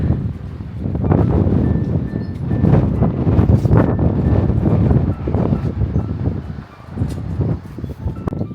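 Strong wind buffets the microphone outdoors in a steady, loud roar with gusty surges and rustling, no talk heard.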